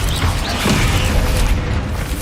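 A Bombarda spell blast in Hogwarts Legacy on hard mode, a loud, dense booming burst that fills the whole moment with low rumble and no pause.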